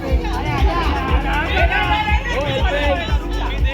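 Office party game crowd, teams cheering and shouting encouragement in a loud, continuous hubbub of overlapping voices with rhythmic thumps underneath.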